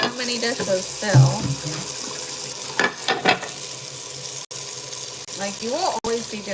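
Water runs steadily into a kitchen sink during dishwashing, a continuous splashing hiss with brief clinks and short voice sounds near the start and end.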